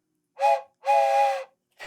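A train whistle sound effect plays in two loud, steady blasts, a short one then a longer one, with the start of a third cut off at the end.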